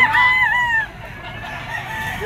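Young stag rooster at an outdoor pet market crows once loudly and close, a drawn-out call that fades into low market background noise.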